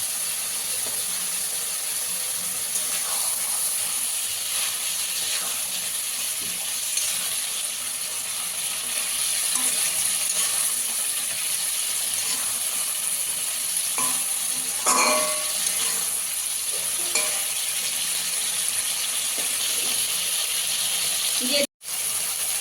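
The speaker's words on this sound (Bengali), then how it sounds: "চুনো মাছ দিয়ে দুধ কচুর ডাঁটা চচ্চড়িটা আর একটু শুকিয়ে নেবো, শুকনো শুকনো হবে, এইভাবে ফুটতে থাকবে।" Small chuno fish cooking with dudh kochu (taro) stems into a drying chorchori curry in a village-style pan, giving a constant soft hiss and bubble with occasional faint stirring scrapes throughout.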